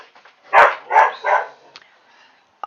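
A dog in The Sims 4 life-simulation game barks three times in quick succession, loud and close, followed by a few faint clicks and near silence.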